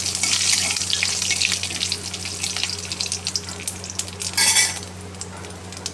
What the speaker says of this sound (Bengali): একটু জিরে একটা শুকনো লঙ্কা তেজপাতা তেজপাতাটা আমাদের গাছের শুকিয়ে রেখেছি ফোড়নটা ভালো করে ভাজা ভাজা হয়ে যাক